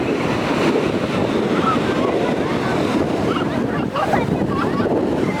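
Strong waves crash at Shankhumukham beach, a loud, churning surf roar mixed with gusty wind buffeting the microphone, with surges of breaking water near the end.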